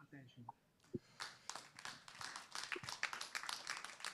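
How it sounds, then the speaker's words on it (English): An audience at a conference pavilion breaks into applause after a presentation, scattered claps building into a dense, continuous patter that grows louder toward the end, following a few brief spoken sounds. "I hope you could hear some of the applause from the crowd."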